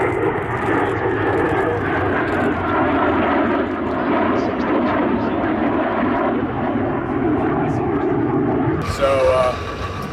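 An Alpha Jet flies past at the Oshkosh air show, a loud sustained engine roar that swells and fades, with a voice talking over it.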